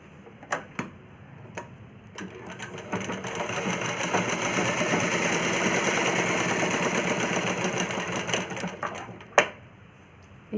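A sewing machine stitching a plain cross-cut blouse, a fast steady mechanical whirr that builds for several seconds then slows, framed by sharp clicks and taps before and after the run, close and loud with no speech.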